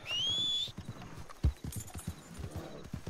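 Horse hooves clip-clopping in a Western setting, a steady run of distinct hoofbeats fairly near, preceded by a short high whinny-like cry, with no talk over it.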